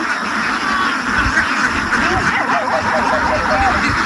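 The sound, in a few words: ducks quacking on a duck farm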